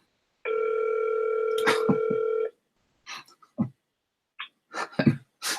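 A Google Hangouts outgoing phone call rings with one long steady electronic tone lasting about two seconds, followed by scattered short noises and brief sounds.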